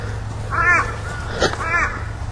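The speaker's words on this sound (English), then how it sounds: "A few crows here today, isn't there?" Crows cawing outdoors during a horse groundwork lesson, a few harsh, moderately close caws in quick succession over a low background hum.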